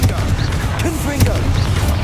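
A fiery Confringo spell blast in the game Hogwarts Legacy bursts out sharply amid continuous combat noise, with a voice talking over the action.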